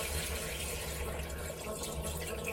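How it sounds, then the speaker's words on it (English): Water runs steadily from a small flush of a Japanese toilet into the tank-top sink of an Osaka apartment: a constant, close, moderately quiet splashing hiss throughout. "So let's do a little flush. I'm going to do that up here on the sink."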